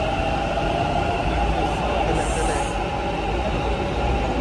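A Bangalore metro train rumbles past with a steady low roar and a faint high whine, heard continuously from nearby at a market setting.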